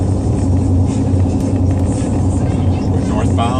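Steady low road rumble from a car cruising northbound on the Don Shula Expressway, a continuous even drone of engine and tyres inside the cabin, with no pauses or passing events.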